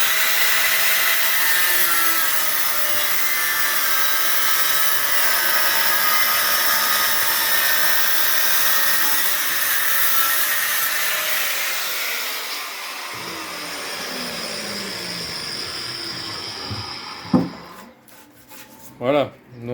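Power cutting tool grinding an opening into a cracked aluminium wheel rim from a VW Touareg V10, a loud sustained rasping whine that fades after several seconds, followed by a few sharp clanks.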